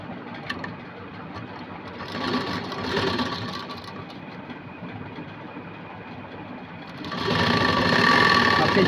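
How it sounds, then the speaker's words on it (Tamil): A sewing machine runs a straight seam on cloth, likely for a princess-cut blouse with Aari work, humming steadily up close and growing louder and faster near the end, with a voice at times. "அப்படியே ஸ்ட்ரைட்டாக ஒரு தையல் போட்டுருங்க."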